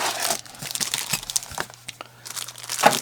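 Plastic bag crinkles and rustles in bursts while a Snow Peak barista set coffee grinder is being unboxed, close and fairly loud, with brief pauses between handlings.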